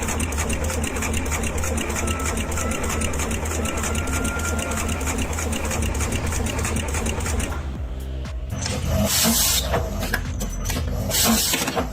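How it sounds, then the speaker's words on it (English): A factory circuit board making machine placing components runs with a fast, steady mechanical chatter throughout, loud and close, shifting near the end to sharper clattering bursts. "how fast is the circuit board making machine"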